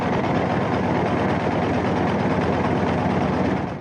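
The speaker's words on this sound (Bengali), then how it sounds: "আমাদের ট্রলার ছুটছে একেবারেই কুল ধরে" A trawler boat's engine drones steadily and loudly as the boat runs along the bank of the Padma river against a strong current, with a dense rumble and no voices.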